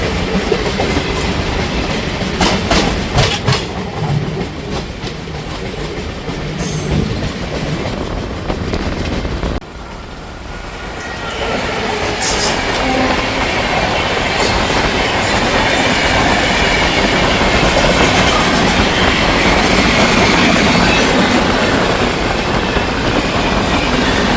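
The Black Diamond Express, running with new LHB coaches between Howrah and Dhanbad, rumbles along steadily with loud continuous rail noise and rhythmic clatter, briefly dipping then rising again, with no talking.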